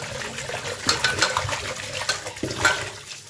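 Small sarpunti fish are rinsed under running water in a kitchen sink, with a steady splashing stream broken by several louder sloshes and clatters as the fish are handled.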